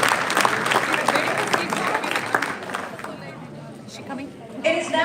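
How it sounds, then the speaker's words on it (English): Guests at a live community dinner give a round of applause, loud and full for about three seconds before thinning out into scattered claps under murmuring chatter and nearby talk. "Can we give them a round of applause?"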